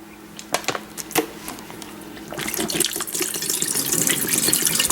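Water poured out of a water bottle into a sink, beginning with a few sharp clinks and splashes, then a steady rushing pour that grows louder and fuller toward the end, no talking.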